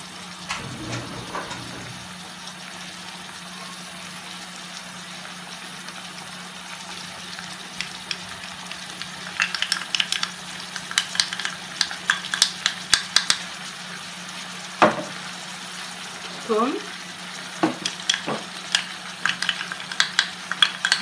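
Onions fry in a pan for paella, a soft sizzle under a low hum with scattered scraping and clinking strokes of stirring that grow busier toward the end.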